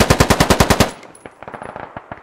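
Automatic machine gun fire in the military shooter game Squad: a rapid burst of about nine loud, evenly spaced shots, followed by quieter, more distant answering gunfire.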